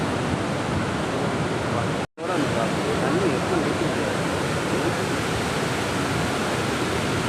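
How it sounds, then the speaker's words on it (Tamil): A loud, continuous rush of water from a waterfall, dense and steady, cut by a brief dropout of silence partway through. "நடுவில் இந்த ஃபால்ஸ் அமைஞ்சிருக்குங்க."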